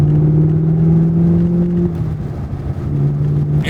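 A 650-horsepower Chevrolet Camaro ZL1 1LE with a manual gearbox drives along, its engine droning with a strong steady low hum that drops in pitch partway through as it shifts, then settles back into a constant note.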